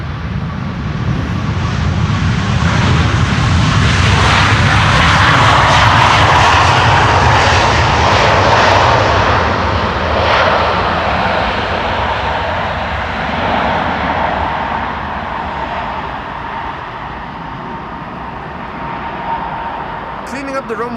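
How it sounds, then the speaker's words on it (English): A WestJet Boeing 737 MAX 8 lands on Schiphol's Polderbaan runway 18R, its engine roar swelling loud and broad, then slowly easing into a steady rumbling wash as the jet rolls out. "WestJet arriving from Halifax, MAX 8 737."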